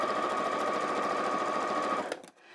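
A sewing machine runs steadily while stitching fabric, a close, continuous whirring hum that holds for about two seconds before stopping abruptly into quiet.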